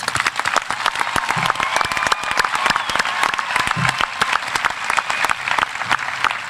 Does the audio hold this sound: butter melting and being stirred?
no